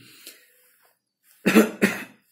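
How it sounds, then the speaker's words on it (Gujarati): Two sharp, loud coughs close together near the end, after a faint, mostly quiet stretch. "આવી રીતે ઉધરસ નહીં ખાઓ મિત્રો"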